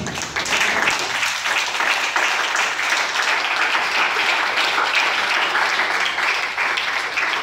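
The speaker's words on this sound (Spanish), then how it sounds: "¿Gustarán tributarle un aplauso al Rey?" Loud, sustained applause from a large church congregation, dense clapping that starts abruptly and holds steady throughout.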